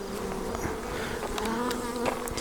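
Honey bees swarm around honey supers during a hive clearing, a dense steady buzz with individual bees flying past close by, no talk.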